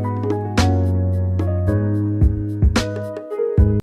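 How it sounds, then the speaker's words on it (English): Bongo hits and bright cymbal crashes punctuate a steady lo-fi beat made in FL Studio over sustained synth chords and a deep low tone, loud and up front. "Then I just placed some bongos and a cymbal for some more natural feel"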